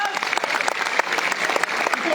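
An audience at a program in Barisal claps, a fairly dense, uneven patter of hands with distinct louder individual claps, continuous for a couple of seconds with faint crowd murmur beneath.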